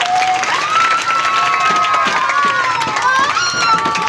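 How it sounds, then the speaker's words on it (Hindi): Loud, close crowd clapping fills a school's annual prize distribution ceremony, mixed with cheering and high-pitched children's shouts and whistling tones, a busy, lively roar throughout. "जनाब सैयद मोहम्मद हुसैन शाह साहब तशरीफ लाए, उन्हें भी हम वेलकम करते हैं। आपकी तालियां।"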